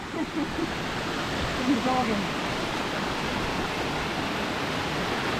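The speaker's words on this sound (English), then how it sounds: "She's a full-on river crossing, this one." Rushing water at a river crossing pours in a loud, steady broadband wash that holds constant throughout, close and unbroken.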